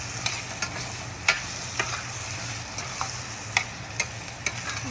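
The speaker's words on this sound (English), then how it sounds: "Now stir it well" Eggs frying in a pan for egg bhurji are stirred, giving a steady broadband sizzle with sharp scraping clicks from the spatula at irregular intervals, close and alone without talk.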